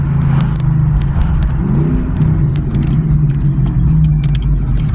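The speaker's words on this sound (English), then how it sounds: "That new exhaust, the rev matches" A Cadillac engine rumbles loudly and close through a new exhaust with a deep, throaty note, holding a steady low idle with slight rises in pitch.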